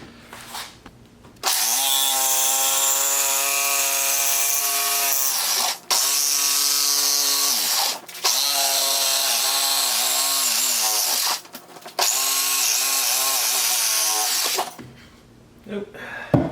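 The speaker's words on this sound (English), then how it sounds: "Use my jigsaw because it's a little bit quieter." A jigsaw cuts through a fish cooler in three long bursts, a loud, close, steady motor whine with a strong buzzing tone, separated by short pauses.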